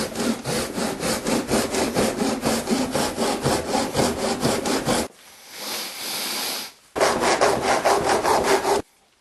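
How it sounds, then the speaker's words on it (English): A hand saw works freehand along a joint in a Little Willys Jeep tub body, making fast, steady back-and-forth rasping strokes. It pauses for a softer hissing scrape, then resumes the rhythmic sawing, loud and close. "Now I'm going to cut in here on both sides along this joint and kind of angle cut this"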